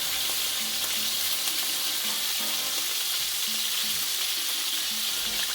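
Oxtail browning in a pot gives off a steady, continuous sizzle of frying. The level stays even throughout, with faint stirring clatter underneath and no voices.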